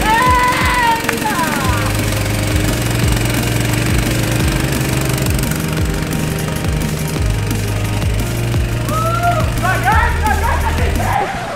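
A mini toy car's small engine starts and runs with a loud, steady, rough low drone that rises and falls in pitch, with excited voices shouting over it.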